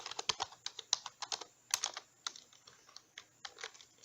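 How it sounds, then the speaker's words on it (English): Quick, uneven keystrokes clatter on a computer keyboard, close and clear, in bursts with brief pauses and no voices. "Then let's type our text here."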